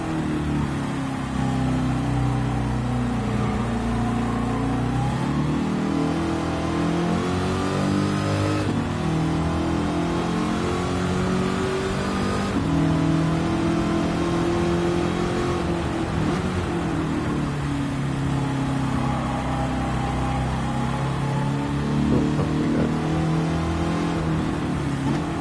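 A TransAm race car engine roars continuously on the Fuji circuit during a 25-lap race, heard from the cockpit, rising in pitch through each gear, dropping at the shifts, then climbing again in a repeated cycle.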